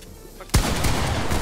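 A single sharp, loud gunshot cracks out in a video game, followed by a sustained noisy wash of game ambience and faint background chatter.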